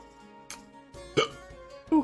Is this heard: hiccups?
yes